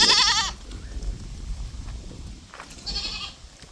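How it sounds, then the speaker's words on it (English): Goats bleat at feeding time on a rural property: one loud, wavering bleat opens, then a quieter stretch of shuffling and low farmyard noise, and a second bleat comes near the end. "Well, the goats know it's dinner time."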